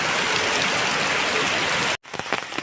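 Heavy rain pours steadily at a house, a dense, loud, continuous wash of drops that cuts out abruptly near the end, followed by quieter scattered patter.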